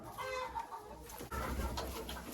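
Chickens inside a henhouse cluck and coo softly at close range, a quiet run of short calls with a brief dip partway through, and no talking over them.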